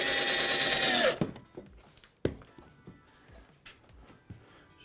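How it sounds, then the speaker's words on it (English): A power drill drives 4-inch screws into a timber frame for a media wall build: a loud whirring burst that winds down after about a second, followed by quieter knocks and handling sounds. "I'm now going to fix this together using the 4-inch screws just like we did with the base frame"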